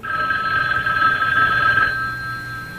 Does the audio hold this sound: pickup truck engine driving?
no